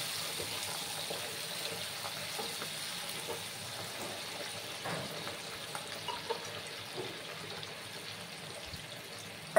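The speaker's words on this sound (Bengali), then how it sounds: "এবার আমি সামান্য জল অ্যাড করে দিচ্ছি।" A small amount of water is poured into a cooking pot of vegetable stalks simmering on a gas stove, giving a steady, soft, hissing splash that runs the whole time with no talk.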